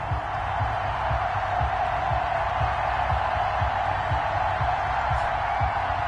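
Steady roar of a stadium crowd in an NFL video game, Buffalo Bills at Tennessee Titans, a dense continuous wash of cheering with rhythmic low thumps underneath, no voices on top.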